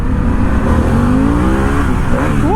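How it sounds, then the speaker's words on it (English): A 2021 Harley-Davidson Pan America motorcycle revs hard in first gear while lifting into a wheelie, its loud, close engine note climbing steadily in pitch before dropping and rising again at the end, with steady wind roar throughout. "Okay, I wheelied it. I wheelied it and then found neutral."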